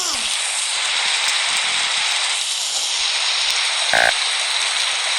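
Steady, dense rain hiss fills the whole clip, loud and close, with a brief faint voice-like sound near the end.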